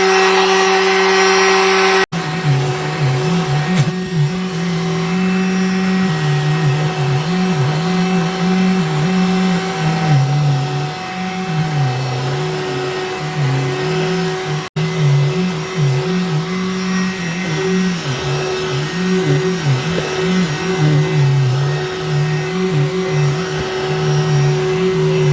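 A VacLife handheld rechargeable vacuum cleaner with a motorized brush runs steadily and loud at close range, its motor whine wavering slightly as it moves over surfaces, with a sharp click near the start and another partway through.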